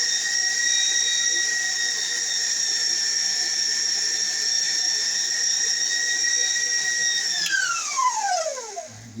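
A stand mixer runs on fifth speed, whipping blackberry frosting to stiff peaks. It gives a steady high-pitched whine that stays level, then winds down sharply as the motor is switched off near the end.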